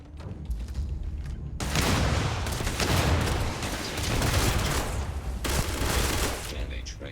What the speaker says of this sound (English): Shoot them. Shoot them. You have the grenade launcher.